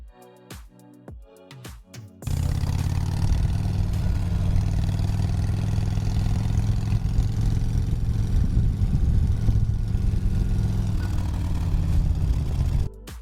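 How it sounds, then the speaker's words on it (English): A motorcycle ride sound effect: after a couple of seconds of quieter, choppy sound, a loud steady engine drone kicks in and holds at a constant level, then cuts off near the end. "Now we're going to go to Pixabay and look for a sound effect for a motorcycle."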